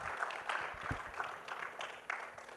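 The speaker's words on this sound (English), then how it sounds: "let's have a round of applause" Applause from a conference audience at an ASEAN energy forum panel session, a fairly faint and uneven patter of clapping with a few sharper claps, lasting a couple of seconds.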